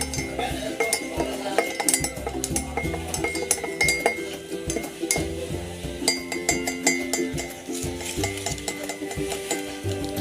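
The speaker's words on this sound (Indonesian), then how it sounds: "kita masukkan vitamin C-nya. Kemudian kita aduk" Spoon stirring vitamin C into a betadine solution: rapid, bright metallic clinks and scrapes against a glass in an uneven, continuous rhythm, close and fairly quiet, with no voices.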